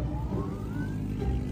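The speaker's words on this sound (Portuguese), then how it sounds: "o Jetta de sirene" Siren on a Volkswagen Jetta, a rising wail that sweeps upward and holds over steady low traffic rumble, sounding moderately close and continuous.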